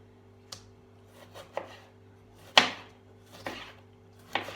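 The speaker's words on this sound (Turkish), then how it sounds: "Şöyle domateslerimi irice dilimliyorum." A small kitchen knife slicing tomatoes into thick pieces on a board, several separate sharp cuts with uneven pauses between them, close and clear over a low steady background hum.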